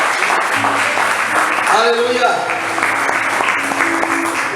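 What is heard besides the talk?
congregation applauding in church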